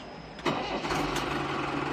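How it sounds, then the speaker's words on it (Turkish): An old-style four-cylinder engine on a 2024 New Holland TT4 75 tractor cranks and catches, then settles into a steady, close mid-pitched running rumble. "4 silindir eski tip bir motor sesine sahip"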